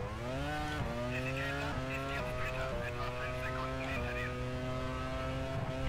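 A Formula One car engine in the racing game F1 Challenge 99-02 on the 2001 Monaco circuit screams up through the revs, with repeated gear shifts dropping the pitch before it climbs again. It plays at a modest level, steady underneath.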